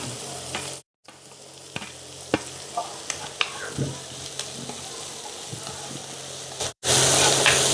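Curry leaves hit hot oil with shallots, grated coconut and crushed skin-on garlic in a stir-fry, giving a steady loud sizzle with sharp crackling pops and two brief silent breaks.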